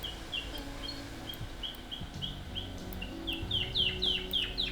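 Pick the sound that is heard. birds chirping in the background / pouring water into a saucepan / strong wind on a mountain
birds chirping in the background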